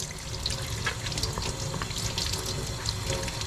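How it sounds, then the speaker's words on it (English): Water runs steadily from a sink faucet as sandpaper is wetted under it, a close, continuous splashing hiss with small irregular spatters throughout. "using the sink in the back, I'm going to turn the water on and I'm going to get the sandpaper wet"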